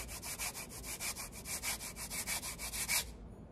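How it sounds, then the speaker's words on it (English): Two percussion sand blocks are rubbed together in a quick, even rhythm of about fifteen gritty, swishing scrapes, heard close and clear before they stop. "These are called sand blocks, and you rub them to make a sound."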